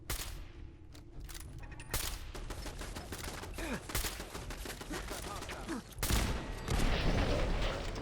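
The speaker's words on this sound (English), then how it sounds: "they tossed a grenade at me" Gunfire in a Fallout 4 end-game fight comes as bursts of sharp shots. A heavier grenade blast erupts near the end and leaves a dense roar, all fairly distant and muffled.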